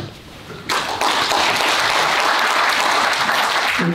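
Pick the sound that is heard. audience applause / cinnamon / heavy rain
audience applause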